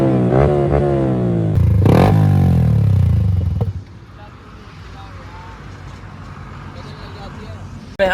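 A Yamaha R15 motorcycle carrying two riders, revving hard in fifth gear with rising engine pitch that cuts off sharply, then settles to a quieter road rumble and wind.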